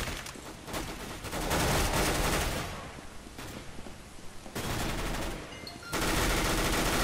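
Rapid automatic gunfire from Counter-Strike: Global Offensive in gun game mode, dense sustained bursts of bullets broken by short pauses, loud and close throughout.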